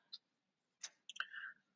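Computer mouse clicks while building a Google Form: a single sharp click, then a pause, a second click, and a short rapid cluster of clicks, close and fairly quiet with no voice.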